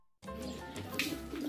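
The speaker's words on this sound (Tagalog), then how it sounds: "meron na tayong ibon hindi natin pinustahan" A racing pigeon arrives at a training loft in Tayabas, Quezon, its soft low cooing heard close and fairly quiet, starting abruptly after a brief silence.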